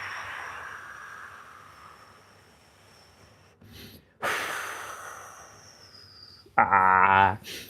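Breathing during a stretching routine for mobility and middle splits, with a soft, slow exhale, then a sharper breath burst and a brief vocal sound near the end, close and fairly quiet.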